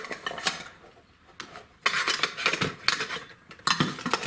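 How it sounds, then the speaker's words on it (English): A metal camping pot and pan set is handled, with irregular clinks, clanks and rattles of metal cookware pieces knocking together at close range, no talking. "we've got pot and pan set here"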